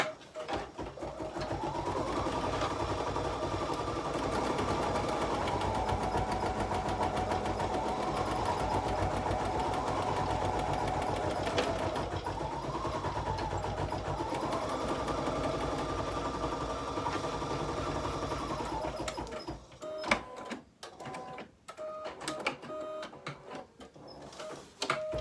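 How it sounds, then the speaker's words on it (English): Embroidery sewing machine stitching out a design on fabric, a steady close mechanical whir with shifting pitched motor tones for about twenty seconds, then stopping into quieter handling clatter. "All right, now I'm just going to go ahead and stitch this out."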